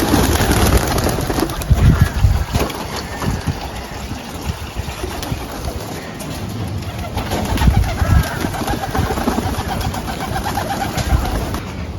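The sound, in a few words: magpie pigeons cooing in an aviary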